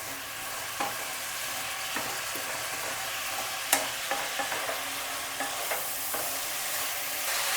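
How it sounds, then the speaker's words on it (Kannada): Bitter gourd frying in oil in a pan gives a steady sizzling hiss, broken by scattered scrapes and clacks of stirring throughout, with no voices. "ಇದ್ರ ಜೊತೆಗೇ ಹುರಿತೀನಂತೆ"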